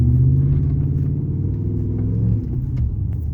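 A 2003 Dodge Dakota pickup truck's engine runs with a steady low rumble and a slight drop in pitch near the end, close and loud, with no talk.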